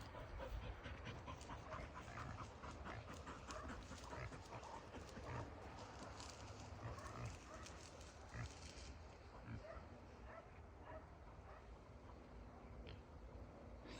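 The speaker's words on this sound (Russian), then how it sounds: "Собаки тут" Hunting dogs on a boar hunt pant rapidly and whimper close by in the forest, with quick rhythmic breaths and occasional yips.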